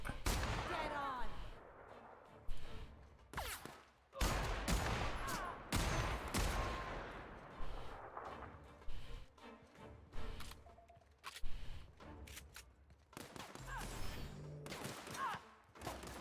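Rapid gunfire from The Outer Worlds, bursts and single shots cracking out in irregular volleys over about sixteen seconds, loud and close with brief pauses between clusters, a voice talking over parts of the fighting.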